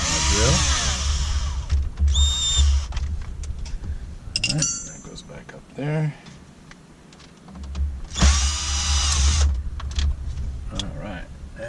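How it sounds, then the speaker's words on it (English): A cordless drill fitted with a T15 Torx driver bit whirs in short bursts, backing out trim screws inside a Mini Cooper Countryman S R60, close and loud, with someone talking briefly between runs. "take the T15 driver that I now so conveniently have on a drill"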